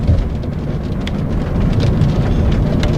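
Heavy rain pours steadily during a thunderstorm, a dense, loud hiss of drops hitting surfaces with a low rumbling undertone, continuous for the whole few seconds with nobody speaking.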